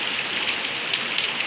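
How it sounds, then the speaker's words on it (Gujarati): Rain falls steadily in a village, a continuous even hiss of drops on surfaces with no voices over it. "જુઓ વરસાદ આજે સવારનો આવો વરસાદ આવે છે"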